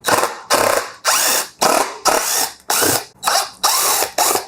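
Power screwdriver driving out the four air filter cap screws on a Yamaha XSR700 motorcycle: eight loud, close whirring bursts, each about half a second long and separated by short pauses.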